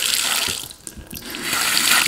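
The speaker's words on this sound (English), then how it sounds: "now that the water is on" Water pouring from a tap into a sink in a house being readied for move-in, a steady close hiss and splash that dips briefly midway and then runs strongly again.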